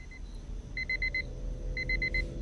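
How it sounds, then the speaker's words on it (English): Electronic alarm clock ringing in a video game, a quiet high-pitched beeping in quick bursts of about five tones with pauses between them, over a low ambient hum. "That sounds like an alarm clock."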